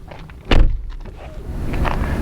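The door of a BMW iX xDrive50 electric SUV opens with a single firm mechanical clunk and a brief release sound, heard close up, then settles into a low steady hum of the surroundings.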